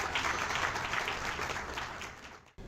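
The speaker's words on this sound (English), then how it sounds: "Let's give them a big round of applause." Dense crowd applause at a groundbreaking ceremony for the rebuilding of Fiterman Hall, moderately loud and steady before fading and cutting off abruptly near the end.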